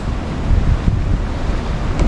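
Sea waves wash against the rocky volcanic coast of La Palma near Puntallana and San Andrés y Sauces, a loud continuous surf roar mixed with gusty wind buffeting the microphone.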